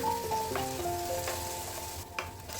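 Prawn biryani masala with turmeric, chilli powder, garam masala, curd and salt stirred in a pan, soft spoon scrapes over a steady sizzle close up.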